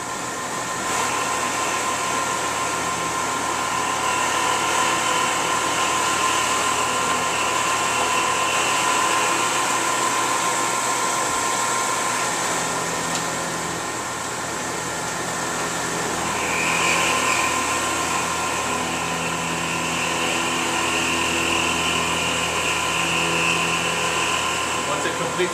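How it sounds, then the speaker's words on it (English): A CNC machine spindle feeds down to cut a circular part, giving a loud, steady high-pitched whine with a continuous machining roar that shifts slightly partway through, with no pauses. "It's going to retract to that plus 100 and then start to feed down for the circular part."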